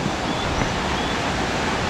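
River rushing along the bottom of a valley in Nepal's Annapurna region near Landruk, a steady broad roar of flowing water heard close by with no talk.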